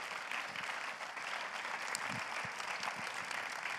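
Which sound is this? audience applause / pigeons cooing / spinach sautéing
audience applause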